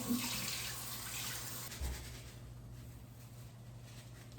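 Water runs steadily from a tap into a sink while hair is rinsed during an at-home ash rose dye job, a continuous close hiss with a brief splash near the middle.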